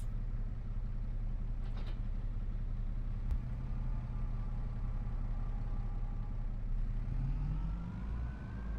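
Tractor engine in a farming video game, a steady low drone with a constant hum running throughout, its pitch rising near the end as the engine revs up.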